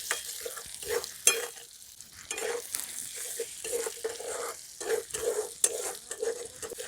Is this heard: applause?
no